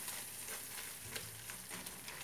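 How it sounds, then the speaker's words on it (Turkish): A cheese halva mixture is stirred in a pan, making a soft, steady sizzle with faint scraping strokes. It is quiet and close, with no talking. "Karıştırıyoruz. Hepsi güzelce birbirine karışacak şekilde"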